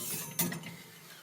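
A microwave door swings shut in a quiet home kitchen: one soft, close thud with a brief latch click, then a faint hum of room tone.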